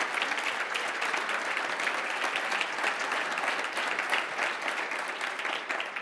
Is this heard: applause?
yes